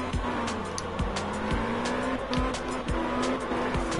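Car drifting in the video game Absolute Drift, with sustained tire squeal over a steady engine note and repeated sharp gear-shift drops, continuous and close.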